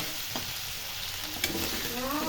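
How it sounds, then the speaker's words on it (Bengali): Meat for biryani is sautéed in a pan, a steady soft sizzle with a couple of sharp utensil scrapes and clinks as it is stirred. "বিরিয়ানির জন্য আগে আমরা মাংসটাকে কষাতে হবে"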